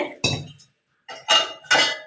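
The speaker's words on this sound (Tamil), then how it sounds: "தட்டு, நடுவு தட்டு, மேல் தட்டு இல்லை நடுவு தட்டு வச்சுருக்கேன்" Metal plates clank and clatter as they are set inside an idli steamer pot, with several sharp, close metallic knocks separated by brief pauses.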